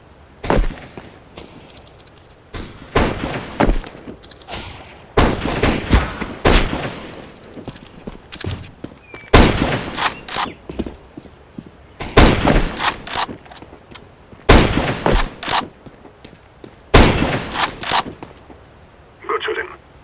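Rapid bursts of gunfire from a Counter-Strike: Global Offensive match, sharp volleys repeating every few seconds at close range with brief quieter gaps between them, plus a short electronic beep near the end.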